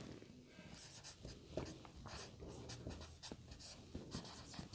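A pen or chalk writing on a board during a class 10 maths lesson on surface area and volume, faint scratchy strokes in short irregular bursts at close range.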